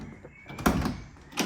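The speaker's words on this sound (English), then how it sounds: "door opens," A VK Commodore car door unlatches and opens by keyless entry, giving a couple of close mechanical clunks and thuds spaced across a short moment, loud and without talk.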